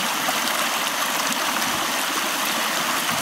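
A mountain stream pours down over rocks and slides across stone at an autumn highland campsite, a steady close rushing and splashing that fills the whole moment without pause.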